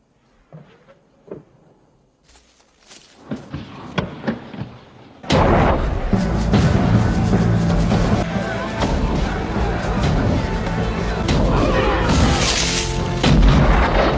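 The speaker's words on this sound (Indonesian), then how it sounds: "membombardir benteng William dengan meriam mereka" Scattered distant booms and cracks give way to a sustained, roaring barrage of heavy cannon fire, loud and continuous, as French cannons bombard Fort William in a battle between the British and French.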